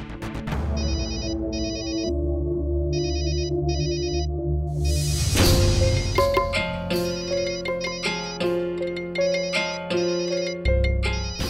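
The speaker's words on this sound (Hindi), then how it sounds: "माँ का फोन आ रहा है" A phone ringtone plays repeatedly in bursts over a musical, melodic backing, loud and continuous with no talking.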